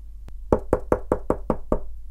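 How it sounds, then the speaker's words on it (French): A wolf knocks on a door in a children's story: one faint tap, then seven firm, evenly spaced wooden knocks in a steady rhythm, close and clear. "un loup approcha et frappa à sa porte"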